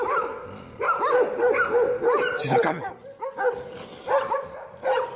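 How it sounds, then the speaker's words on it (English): A pack of angry dogs barking in bursts at a well-trained pit bull, loud overlapping yips and barks close by, mixed with a person talking over them. "A very well-trained pit bull wards off a pack of angry dogs."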